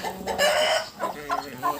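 A brooding hen gives a few soft, throaty clucks in quick succession, close by, with faint outdoor background noise.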